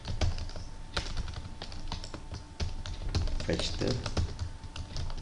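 Keys clatter in quick, uneven bursts on a computer keyboard as code is typed for a PHP CRUD project, close and fairly loud, with someone talking over the typing throughout.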